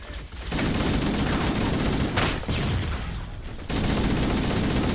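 A sniper rifle fires in Halo: Combat Evolved, with loud, sharp reports that ring out into sustained booming tails, roughly three shots spaced across a few seconds, with no voices.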